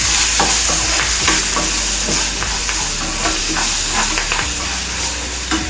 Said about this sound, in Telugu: 1 టేబుల్ స్పూన్ వరకు ఉప్పు వేసి కలిపేసుకొని